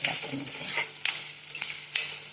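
Potatoes roasting and being stirred in an iron pan, a steady background sizzle broken by several sharp scraping strokes of the spatula against the metal, close and moderately loud.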